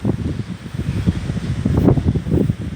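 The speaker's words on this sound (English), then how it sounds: "And windy, very, very windy." Steady, gusty wind roars and buffets throughout at a kart racing track, a broad rushing noise with low rumbling pulses, close and fairly loud.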